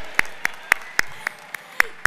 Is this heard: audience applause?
yes